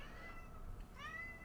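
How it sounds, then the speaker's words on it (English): A domestic cat meows once, a short rising cry near the end against a steady low room hum, fairly faint and alone. "That's my cat, Glitzy."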